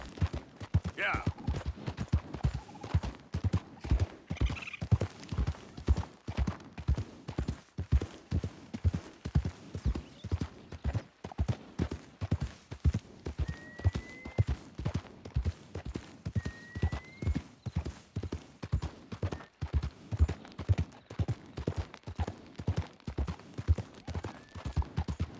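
Horse hooves clip-clopping steadily in Red Dead Redemption 2, a continuous rhythmic trot of evenly spaced hoofbeats running throughout, with a couple of faint whistling tones over it.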